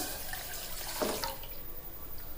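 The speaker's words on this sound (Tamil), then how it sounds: "இப்போ வந்து நம்ம ஒரு டம்ளர் பால் வந்து ஊற்றிக்கலாம்" Milk pours from a tumbler into a pot of boiling water with ginger and cardamom, a brief splashing gush that rises over a constant bubbling, hissing stovetop background.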